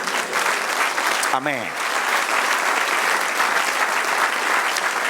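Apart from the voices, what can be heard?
congregation applauding in church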